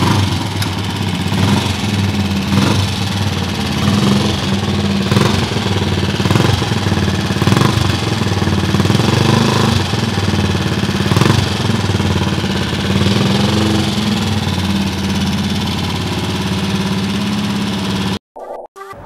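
A Triumph Tiger Cub trials motorcycle fires up and runs with a loud, close, steady single-cylinder chatter and throttle blips for about eighteen seconds before cutting off abruptly.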